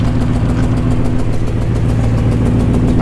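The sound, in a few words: Ford F150 Harley Davidson truck engine idling, loud exhaust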